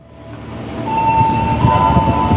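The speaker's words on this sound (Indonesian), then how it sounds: "ini dia kereta api Sembrani dari stasiun Surabaya Pasar Turi dengan tujuan akhir stasiun Gambir" The Sembrani passenger train, running from Surabaya Pasar Turi to Gambir in Indonesia, rumbles past close by, its loud rolling roar building steadily, with a thin whining tone riding over the wheel noise.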